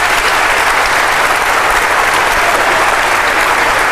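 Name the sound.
audience applauding the panel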